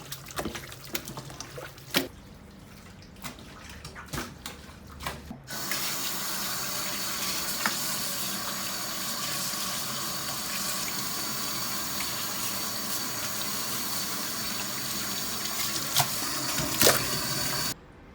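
Tap water runs steadily into a kitchen sink while pork intestines are scrubbed with vinegar and flour, first with scattered handling splashes and knocks, then a loud continuous gush for over ten seconds, no talk.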